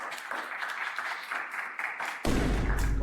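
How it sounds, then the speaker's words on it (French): Audience applause in a room as a new participant is called up, steady clapping from a crowd that suddenly turns louder and closer with heavy thumping near the end. "Applaudissez-le."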